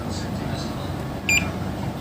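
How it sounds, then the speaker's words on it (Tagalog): A single short electronic beep from the board of an LG Dual Inverter air conditioner under repair, sounding once briefly over steady background noise. "Isang beses lang siya nag-beep."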